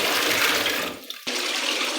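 Water pours and drains from freshly washed spinach leaves being prepared for chicken palak, a close, steady splashing rush that briefly thins and pauses before gushing again.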